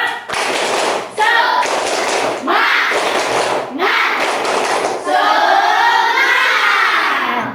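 Classroom of primary school pupils at an elementary school doing a rhythmic group clap, loud bursts of clapping in repeated patterns with children's voices chanting and shouting along, ending with a sustained crowd of young voices.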